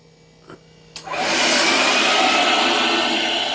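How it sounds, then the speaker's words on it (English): A loud, steady machine roar starts after a couple of soft clicks and keeps droning, the vacuum motor of an ICE i15B floor scrubber running nearby. "Turn on the vacuum."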